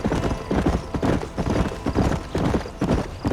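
Galloping horse hooves in the Red Dead Redemption video game pound in a fast, close, rhythmic beat, loud and continuous throughout.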